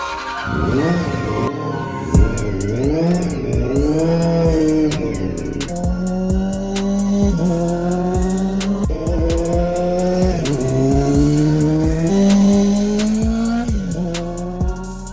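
A restored 30-year-old Honda four-cylinder motorcycle engine revs repeatedly, its pitch climbing and dropping in several loud, close blips and sustained runs with no voices.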